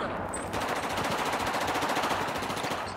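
Rapid automatic gunfire in the video game Battlefield 4 rattles in fast, evenly spaced bursts that run almost without pause, fairly faint in the mix.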